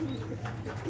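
A racing pigeon arriving at the loft after a race gives a brief, soft coo, close by and alone, over a low steady background hum.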